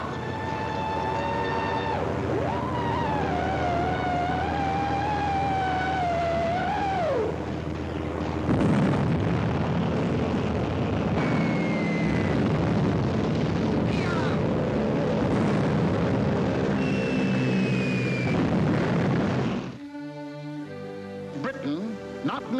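Roaring engines of British warplanes fill an old WW2 War Department film soundtrack, a loud, steady drone with a falling tone and swelling rumbles, and a narrator speaks over it before it cuts to music.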